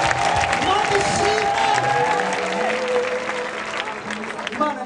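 Steady applause and crowd noise from a church audience praising God at a Jehovah Jireh Choir gathering, with a voice speaking over the clapping throughout.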